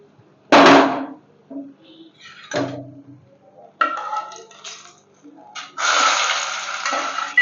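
Hilsa fish frying in oil in a pan in a home kitchen: a sharp burst of sizzling, a few softer clatters and splashes, then a steady, loud crackling sizzle that carries on to the end.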